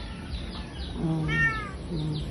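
Cats meowing at feeding time, a couple of clear meows in the middle over a steady background hum and low outdoor noise.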